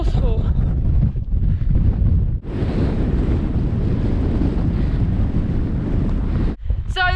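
Strong, forceful wind roars across an exposed Lake District mountain ridge near Coniston Old Man and Dow Crag, a steady loud broadband buffet against the microphone that runs almost unbroken, with brief talk before it builds and again at the end.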